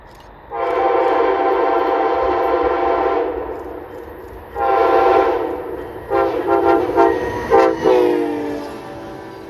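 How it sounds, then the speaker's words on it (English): Amtrak Auto Train passing close by, its horn sounding in long loud blasts, then a series of shorter staccato toots as the train rolls past with steady rumble underneath. "It's the auto train."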